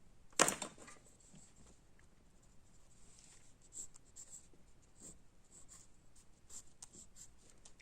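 A pen scratches over paper in a run of short strokes and taps, faint and close, with one sharper knock near the start while drawing a circle and other shapes.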